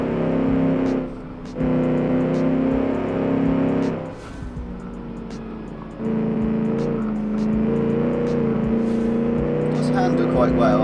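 A video game car with very short gear ratios, driven on the Road Atlanta circuit, revs hard through repeated gear changes, its loud engine note climbing in bursts with brief dips between shifts, while a voice talks over it.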